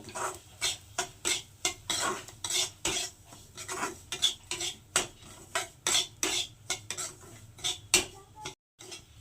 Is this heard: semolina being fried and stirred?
yes